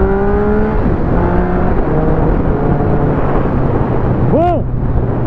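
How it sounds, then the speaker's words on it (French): Triumph Speed 1050 three-cylinder motorcycle engine running steadily and loud, a continuous rumbling drone with shifting tones and a brief rev near the end; a voice speaks over it. "Oh, le son du 3 cylindres, qu'est-ce qu'il est bon."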